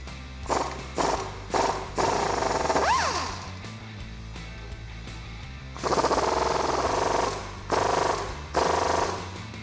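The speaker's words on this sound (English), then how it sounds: "I'm going to be removing it with the T55 Torx bit and an 18mm wrench" Loud, repeated bursts of harsh mechanical rattling and clanking as a rusty sway bar end link bolt on a Jeep Wrangler TJ is worked loose with a wrench, separated by short pauses, with no talking.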